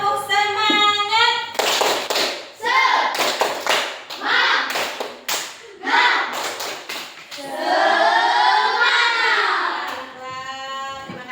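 A classroom of children claps a rhythmic spirit clap together, with bursts of sharp, patterned hand claps interleaved with children's voices chanting and talking throughout.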